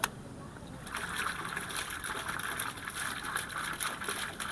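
Pool water pump switched back on and pushing water through a pipe, a steady whirring motor hum with a watery hiss, close and continuous after a brief start.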